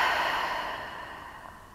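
A slow, deep breath drawn in through the nose and let out through the mouth during a gentle yoga session, a soft airy sigh that fades steadily, close and alone without talk.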